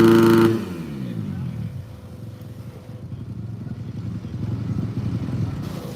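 A supercross motorcycle engine at a sound check, with a steady, rough mid-pitched rumble and sputter that rises slightly toward the end after a short louder burst at the start, heard at moderate distance.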